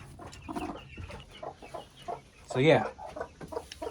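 A backyard hen clucks in a string of short, close clucks with a louder squawking burst midway, while a person briefly speaks.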